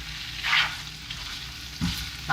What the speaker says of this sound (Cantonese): 咁我咧就一開始會用2湯匙嘅蒜蓉爆香佢先。